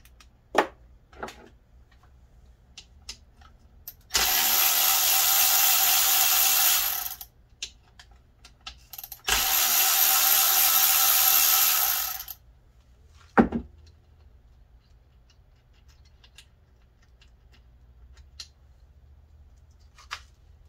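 On a Kawasaki Brute Force 650 engine, tensioner bolts come off with two long, loud bursts of a power ratchet or impact tool. Scattered clicks and clanks of hand tools fill the quiet gaps, and no one speaks.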